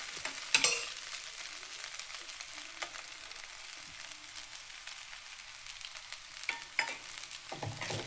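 Vegetable poha (avalakki) sizzles and crackles in a pan as it is stirred and mixed, with scraping spatula strokes and a few sharper clinks near the start and end, no voices.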